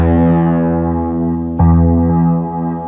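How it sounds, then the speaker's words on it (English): A guitar track on a Korg Wavestate synthesizer sounds bright, sustained bonging tones, one decaying note followed by a fresh strike about halfway through, with no talk. "Let's unmute the guitar track, and we can hear the bonging."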